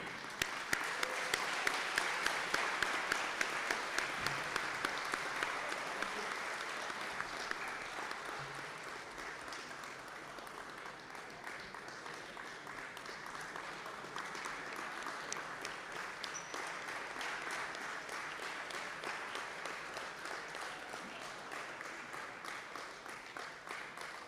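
An audience at the CEOAI 2026 opening ceremony at UBB claps to welcome the Ukraine delegation, a long, moderately quiet wash of applause that peaks early, eases slightly, then carries on steadily with audible individual claps.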